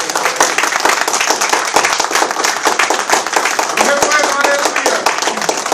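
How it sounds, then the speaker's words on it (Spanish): Church congregation clapping loudly and rhythmically close by, sharp hand claps running throughout with voices talking over them. "Dale un aplauso al Señor"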